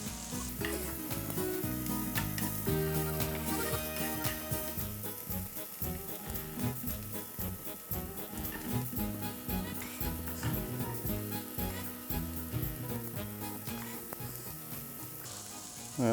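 Garlic and sun-dried tomato sizzle in oil while being stirred, with a steady close crackle and scraping strokes running the whole time beneath continuous background music.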